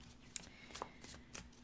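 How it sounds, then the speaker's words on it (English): A deck of cards being shuffled in a quiet room, soft brief riffles and flicks spaced apart, faint and close with no talk. "So I'm just shuffling the cards."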